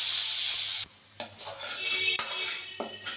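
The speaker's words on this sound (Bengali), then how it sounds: "কড়াইতে আবারও একটু তেল দিয়ে দিয়েছি আর যেহেতু কাঁচা রসুন এই সাত আট কোয়া রসুনটাকে একটু এদিক ওদিক করে নেবো" Raw garlic, seven or eight cloves, stirred and fried in oil in a wok, with a steady sizzle broken by sharp scraping clinks of the spatula against the pan.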